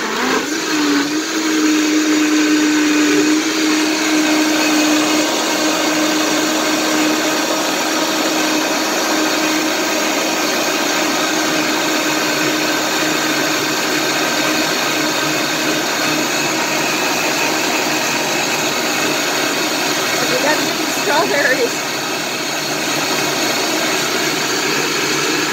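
A blender runs on high, chopping a strawberry smoothie with a loud, steady whirring roar that holds for the whole stretch, its motor pitch dipping slightly early on as the strawberries are worked in.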